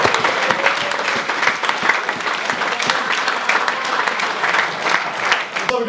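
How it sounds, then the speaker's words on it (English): A room full of people gives a loud round of applause for a Leicester Tigers rugby player, with crisp, dense clapping close by that stays strong and continuous throughout. "big round of applause, please"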